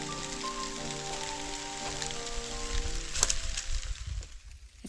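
Light rain sprinkling outdoors at Cedar Mesa in Utah, a soft continuous hiss of drops with faint patter, fairly quiet and close, growing slightly rougher toward the end.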